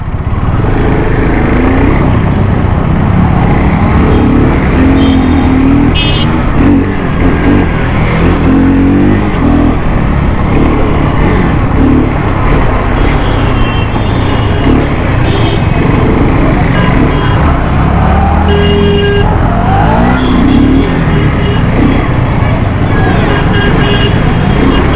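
KTM Duke 250 motorcycles racing through street traffic, engines revving and accelerating loudly and close, with passing cars, traffic rumble and short horn toots, while a rider talks over it.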